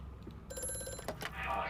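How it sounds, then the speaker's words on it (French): An old telephone rings in the horror game Amnesia: A Machine for Pigs, a bright metallic bell trill lasting about half a second, followed by clunks and ambient noise, with a voice murmuring faintly. "Téléphone?"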